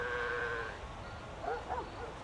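A few faint sheep bleats in the Worshipers of Cthulhu video game, a short tonal call followed by two wavering bleats, quiet over a low background.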